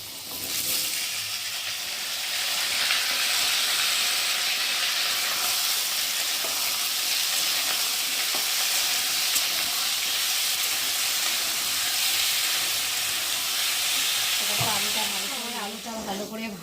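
Potatoes fry in hot oil with black cumin for aloo posto, giving a steady, loud sizzling hiss that runs unbroken for over fifteen seconds, with a brief voice near the end.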